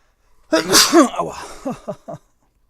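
A single person sneezes close by, a sharp loud burst that trails off into a few short breathy catches.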